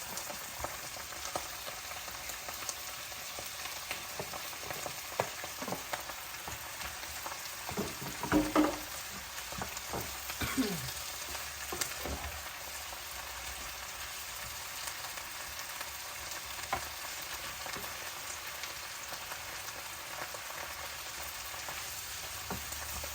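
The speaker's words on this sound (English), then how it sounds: "Let's just focus on frying our veggies. Right now I will add my mushroom." Mushrooms and vegetables frying in a pan for a salmon stir fry, with a constant, fairly faint sizzle and a few brief scraping and clattering sounds near the middle.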